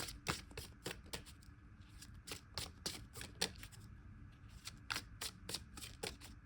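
Tarot cards shuffled by hand in brisk, irregular bursts of close riffling and slapping, with a brief pause midway before the shuffling resumes, no talking.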